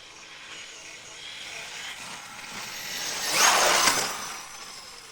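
A brushless Losi 5T electric RC truck with a conversion kit drives fast at full throttle outdoors, giving a steady mid-distance whine that swells louder for a moment near the end with no talk.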